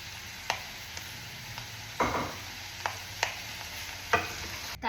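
Liver cooking in a pan for a baked liver pâté: a steady low sizzle with repeated sharp clicks and scrapes of stirring at irregular intervals, close by, with no talking.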